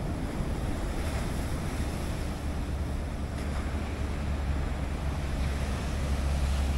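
Ocean waves and strong wind at Goat Island in Cataño, Puerto Rico, a continuous roar of surf with heavy wind buffeting the microphone, loud and steady with no voices.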